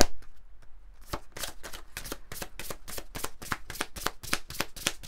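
Oracle cards being shuffled by hand, a fast steady run of crisp riffling slaps that starts sparse and then settles into an even, close rhythm with no talking.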